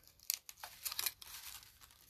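A paper flower label is cut out by hand, giving close, crinkly rustling and short tearing snips in quick, uneven bursts.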